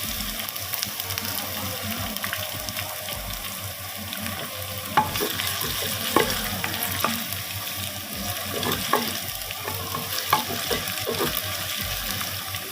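Masala for a mutton and peas curry roasting over high flame, a steady loud sizzle throughout with scattered scraping clicks of a spoon stirring against the pot.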